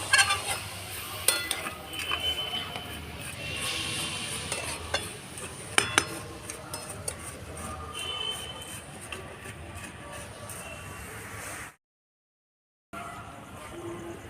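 Ingredients for carrot laddu fry in a pan with a continuous crackling sizzle, broken by occasional scraping stirs and a short silent gap near the end.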